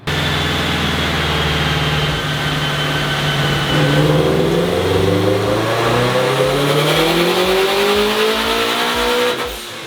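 A turbocharged Subaru BRZ roars loudly on a dyno, its engine climbing steadily in pitch through a long sustained rev before cutting off abruptly at the end.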